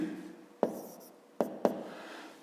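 A pen or pencil writes on paper during a fifth-grade math exercise, giving soft scratchy strokes with a few sharp taps. The taps are close, quiet and irregular.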